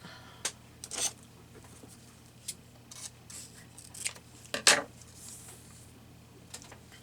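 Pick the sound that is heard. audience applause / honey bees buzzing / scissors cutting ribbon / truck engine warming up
scissors cutting ribbon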